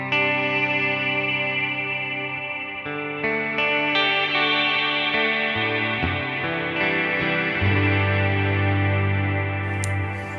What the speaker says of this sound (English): So we want this big, real washy sound that goes on forever.